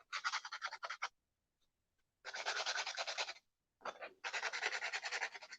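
Paper edges being roughed up and scuffed for a worn look while making a winter Shaker box: three bursts of close, dry scratchy rubbing separated by short silences, no talking.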